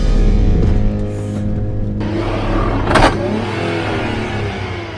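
A Land Rover engine revs hard while climbing a steep, loose, rocky and rutted off-road trail with big roots, a loud, close drone that dips and surges, with a brief higher burst midway.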